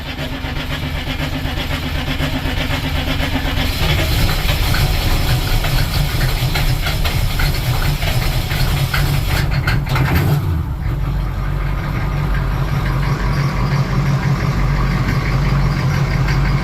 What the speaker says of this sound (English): And it idles perfectly smooth. Idles like stock.